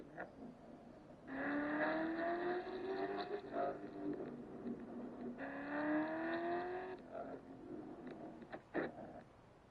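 A 460-horsepower Mercedes engine in Forza Horizon 5 revs up through two rising gear pulls, a loud whining climb that drops back between shifts before easing off.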